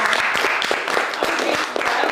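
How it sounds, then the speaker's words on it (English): A studio audience claps steadily at a reunion show, a dense, even wash of applause held at one level from start to finish. "Can we clap to that?"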